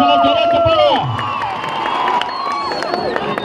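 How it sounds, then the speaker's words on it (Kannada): Spectators at a women's kabaddi final between Jai Mahakali Chinchali and Gujarat clap and cheer loudly, with whistles and shouts rising over a dense, continuous crowd roar. "ಚಪ್ಪಾಳೆ ಒಂದ್ಸಲ ಜೋರ ಚಪ್ಪಾಳೆ"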